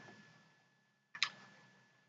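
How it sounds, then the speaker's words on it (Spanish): A computer mouse is double-clicked while working in construction cost-estimating software. Two quick, crisp clicks sound close together against a faint background hum. "damos doble clic."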